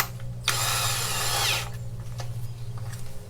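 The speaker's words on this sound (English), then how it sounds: "I'm going to drill it, or screw it I should say, into the bottom of my acorn" A power drill whirs steadily for about a second, driving a screw into wood, then stops over a low background hum and faint clicks.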